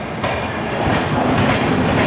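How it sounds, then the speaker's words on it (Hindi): The Ajanta Express passenger train runs after pulling out of Jalna station, a loud close rumble with steady clickety-clack of wheels over rail joints throughout. "दो मिनट के शेड्यूल हॉल्ट के बाद हमारी ट्रेन निकली है जालना से।"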